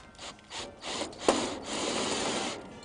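A self-tapping sheet metal screw is driven during HVAC installation work, giving a faint grinding, ratcheting rasp in short uneven bursts with one sharp click partway through.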